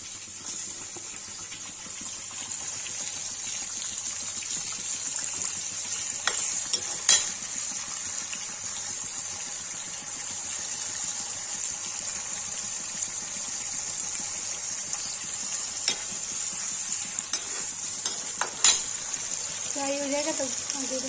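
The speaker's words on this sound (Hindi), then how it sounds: "पनीर फ्राई करने जा रही हूँ" Paneer frying and being stirred in a pan for aloo paneer sabji, a steady bright sizzle running throughout with occasional scraping stirs and a few brief clinks, close and fairly even in level.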